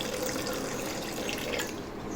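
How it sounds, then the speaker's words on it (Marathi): Water is poured into blended raw mango pulp for panha, a steady liquid splashing and trickling close by, continuous throughout. "मी आता ह्यात पाणी आणि वेलची पावडर घालणार आहे पाणी घालून घ्यायचं"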